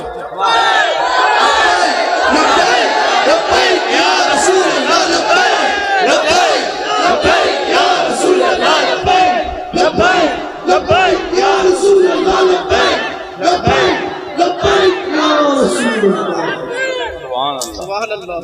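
A large crowd chants and shouts loudly together in a sustained, rhythmic roar, with many voices overlapping close by.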